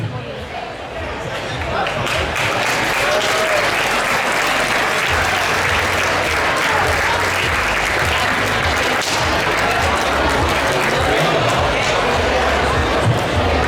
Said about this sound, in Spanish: despedimosles con un fuerte aplauso.